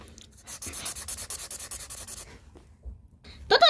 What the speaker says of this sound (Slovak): Tu máte vy pero, aby ste to vyrezali.